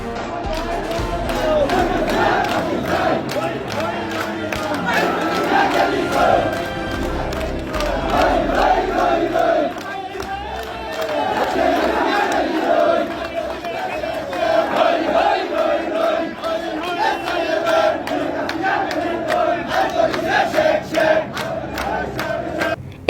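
Protesters at a street rally demanding justice, chanting slogans in rhythmic unison, a loud crowd of voices rising and falling in repeated call-and-response bursts, with cheering mixed in.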